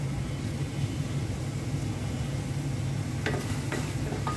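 Fish curry with green mango and coriander leaves being stirred in a hot pan, a constant sizzle and hiss with a low hum beneath and a few soft scraping clicks near the end.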